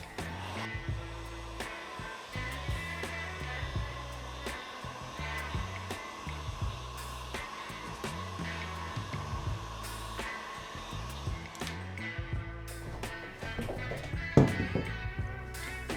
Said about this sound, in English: So right now we'll just heat gun this and temporarily dry the ink.